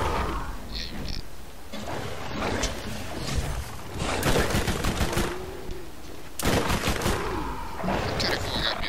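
Bursts of incendiary SMG fire in the shooter game Borderlands, rapid crackling volleys recurring in several loud clusters with a voice talking over parts of it.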